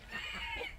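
Chickens kept alongside ducks at a farm in Bohol, Philippines, cluck and squawk briefly nearby, a busy, slightly noisy burst with no talking.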